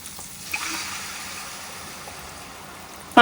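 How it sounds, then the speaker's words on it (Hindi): Water pours into a pan of masala that has been slow-fried in oil for a fish curry, a steady rushing stream near and moderately loud that runs for a few seconds and ends in a sharp burst. "अब मैं इसमें पानी डालूंगी।"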